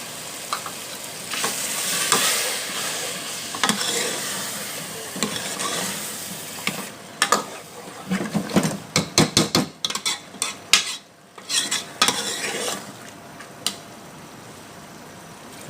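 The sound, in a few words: yakhni broth added to fried masala and stirred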